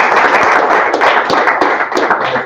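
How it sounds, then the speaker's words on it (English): Applause for a guest speaker named Rich at the close of a weekly weather briefing, a steady dense patter of many hands clapping throughout, fairly loud and close, with a few sharper individual claps standing out. "All right, round of applause for Rich."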